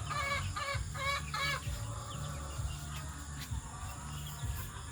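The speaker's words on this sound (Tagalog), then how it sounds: "Yung mga manok ko." Several well-fed chickens cluck in short repeated bursts at first, then quieter scattered clucks over a low steady background hum.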